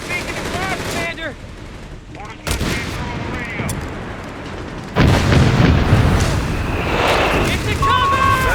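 Artillery batteries firing in the real-time strategy game Company of Heroes 3, with booming shots and crackling gunfire throughout, growing louder and denser in the second half, under game voices calling out orders.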